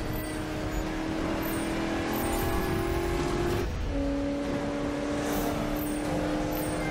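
A Ford Mustang in Need for Speed 2015 drives with a steady engine drone and tonal whine that shifts pitch partway through, as if changing gear, over constant road and tyre noise, with no talk.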